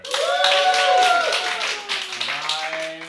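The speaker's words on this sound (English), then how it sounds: "Another round of applause" An improv show audience claps and cheers in a lively burst of applause, close and full at first, then tapering, with voices calling out over the clapping.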